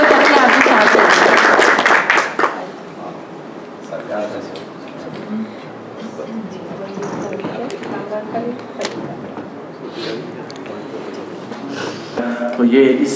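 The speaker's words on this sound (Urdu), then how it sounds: "بھرپور تالیاں" A crowd at a literary gathering welcomes a keynote speaker with a burst of loud, dense clapping that fades after about two seconds, followed by lighter scattered claps, shuffling and murmuring voices.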